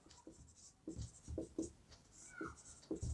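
Chalk or marker writing on a board during a Hindi-medium class 9 maths lesson on lines and angles, with a series of short scratchy strokes in an uneven rhythm and faint room noise between them.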